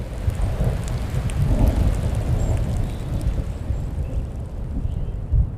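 Steady rain with rolling thunder in an open desert setting, a dense continuous wash of falling water with low rumbles swelling and fading throughout, no voices.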